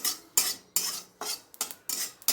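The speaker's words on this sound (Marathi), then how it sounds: "आता मी खसखस बाजूला काढून घेत आहे" A metal spoon scrapes roasted poppy seeds out of a pan in a series of sharp, close scraping strokes, about six in quick succession, with short pauses between.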